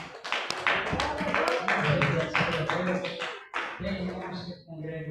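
A church congregation at a teaching and doctrine service in Jardim São Silvestre, Guarulhos, claps loudly and steadily in irregular bursts, filling the room with a dense mix of hand claps and background voices.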